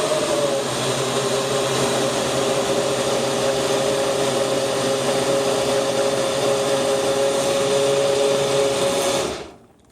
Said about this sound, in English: NutriBullet top on, if we can get it on, and put it on the machine